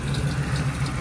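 A car engine idles steadily on a freshly rebuilt carburetor just installed for a customer, giving a low, even rumble with a regular pulsing beat, close up and alone with no talk.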